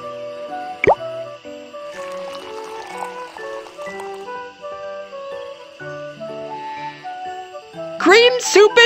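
Water pours into cream soup in a cartoon cooking game, with drippy plops and splashes over light background music and a brief bright tinkle near the end.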